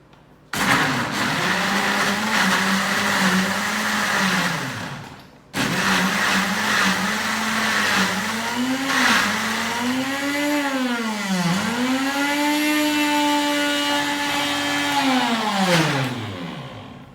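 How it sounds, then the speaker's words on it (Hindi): A blender grinding mango for fruit popsicles, a loud close whirring motor that stops briefly and restarts, its pitch dipping and rising as the fruit churns, with no talk. "फिर आपने इसको थोड़ी ग्राइंड करना है, इतनी ज़्यादा देर नहीं करना"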